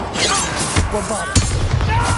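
In Hogwarts Legacy, a Bombarda explosion spell sends out loud, crackling blasts, with several heavy thumps punching through a continuous roar of game combat.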